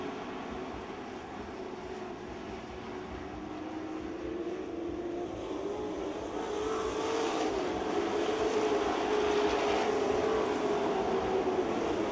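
Race cars roaring around the Speedzone oval track during a 2010 race, a steady loud engine drone that swells and rises in pitch as the cars pass close by, with no talking.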